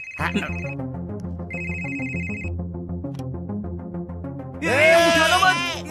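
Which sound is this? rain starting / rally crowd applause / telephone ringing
telephone ringing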